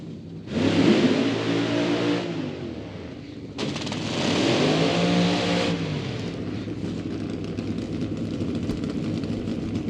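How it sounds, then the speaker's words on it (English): Two injected nitro funny cars, one wearing a Chevrolet Camaro body, launch side by side at Eddyville Raceway Park drag strip, with two loud, roaring bursts of engine thunder that give way to a lingering rumble as they pull away. "So these two injected Nitro cars set to go."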